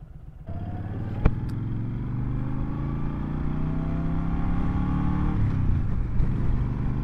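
A Honda Fury cruiser with a 1300cc engine pulls away on a ride, its engine note rising steadily in pitch as it accelerates, then shifting and rising again, loud and close with wind noise.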